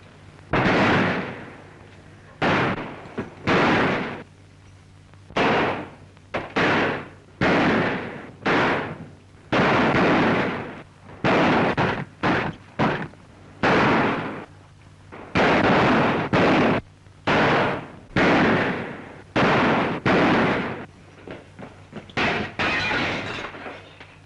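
Gunfire from a shootout in a 1936 western film: a long run of sharp, loud shots and bursts, some in quick clusters and others spaced apart, filling the scene without any talk.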